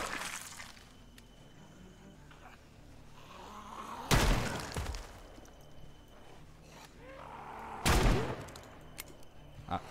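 Gunfire in the zombie survival game Project Zomboid, two loud separate shots a few seconds apart over quiet ambient background, each with a short fading tail.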